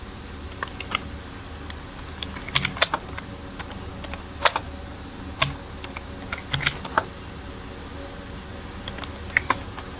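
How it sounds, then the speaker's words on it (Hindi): Clicky keystrokes on a computer keyboard come in irregular bursts and scattered single taps, close and clear over a faint steady room hum. "मेरी टाइपिंग इतनी अच्छी नहीं चल रही इस टाइम, कीबोर्ड एरर है कुछ"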